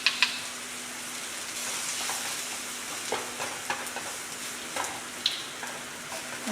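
Green chillies and foraged mushrooms sautéing in a pan, with a steady close sizzle and a few sharp clicks and scrapes of a spatula stirring at intervals.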